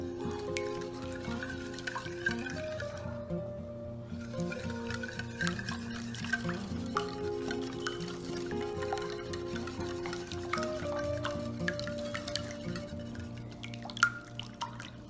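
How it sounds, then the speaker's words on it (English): Cheddar cornbread batter being mixed together after a melted ingredient is added, giving a steady, soft wet stirring and dripping sound that runs continuously under background music. "Mix everything together."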